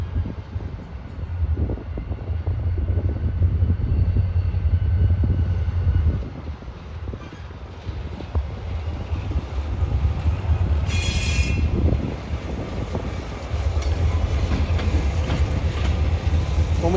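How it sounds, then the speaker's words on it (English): A yard shifter train led by two EMD SD40-2 diesel locomotives rumbles past at close range, a steady loud low drone with a brief high wheel squeal partway through, no voices. "Another yard shifter came up with 2 EMD SD40-2s doing the honors"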